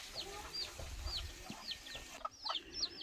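Chickens cluck and peep faintly in quick, repeated short calls against soft background rumble, with no talking.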